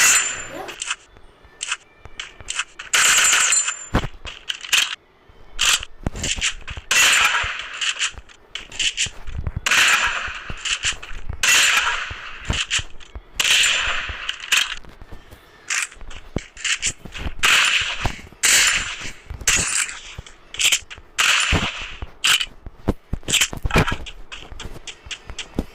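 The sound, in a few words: Free Fire video game gunshots: shield gun, SKS, M500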